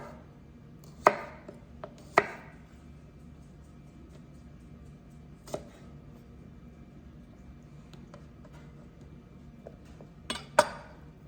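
A knife cuts a soft spot out of a cucumber being prepared for homemade pickles, giving a few sharp taps and clicks against a cutting board, spaced irregularly over faint kitchen background noise.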